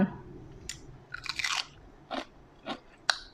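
Crispy fried fish skin crunches loudly between the teeth in about five separate bites, each a short brittle burst with quiet pauses between, close to the mouth and with no talk.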